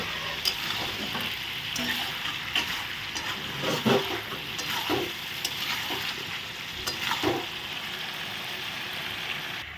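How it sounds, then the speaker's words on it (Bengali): Mixed vegetable curry with jackfruit seeds stirred in a pan with the lid off, a steady low sizzle under intermittent scraping spoon strokes, close but fairly quiet, no voices. "সবজিটা আমি ভালো করে এখন ঢাকাটা তুলে এখন নেড়ে দিচ্ছি"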